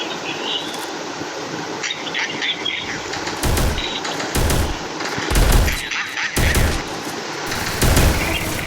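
Bursts of automatic gunfire in a Free Fire match, loud close volleys recurring every second or so over constant game ambience, with a voice talking faintly underneath.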